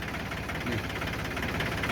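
A farm machine engine fitted with a front loader bucket sits idling without being revved, giving a steady, continuous low knocking rumble at even volume throughout with no speech.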